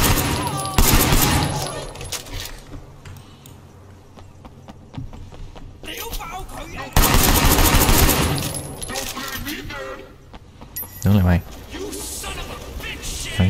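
Gunfire in the PC video game Sleeping Dogs, from its Nightmare in North Point DLC: bursts of rapid shots and clattering impacts in two main volleys, mixed with game sounds and someone talking over them.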